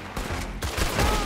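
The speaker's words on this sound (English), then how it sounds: "Got him. Shoulder shot." Red Dead Redemption 2 rifle fire comes as a dense run of loud, overlapping gunshots and reports over rumbling game noise.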